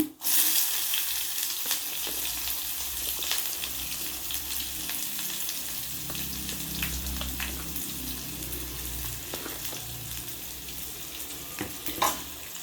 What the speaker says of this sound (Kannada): ಸೊ ಈರುಳ್ಳಿನ ಸ್ವಲ್ಪ ಫ್ರೈ ಮಾಡ್ಕೊಳ್ಬೇಕು, ಅದು ಟ್ರಾನ್ಸ್ಪರೆಂಟ್ ಆಗೋ ಥರ ತನಕ ಇದನ್ನು ಫ್ರೈ ಮಾಡ್ಕೋಬೇಕು.